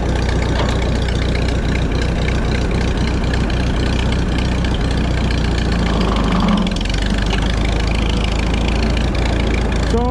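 A tractor engine idles steadily after running a few minutes, a loud, low, even rumble that holds throughout without change in pace.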